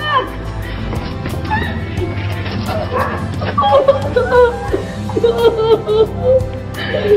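A dog barks and yips several times amid a noisy scene with people talking and laughing over it.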